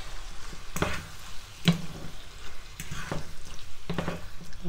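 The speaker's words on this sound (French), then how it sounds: "Et je mélange bien le tout." Spaghetti bolognese with chopped parsley stirred in a pan, a steady sizzle broken by several distinct scraping strokes of the spoon, close and fairly loud with no voices.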